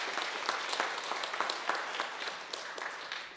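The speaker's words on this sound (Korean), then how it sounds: "자, 여러분 박수 보내주세요." Steady applause from a church congregation at a Sunday service, dense and sustained clapping at an even loudness throughout, fading slightly at the end.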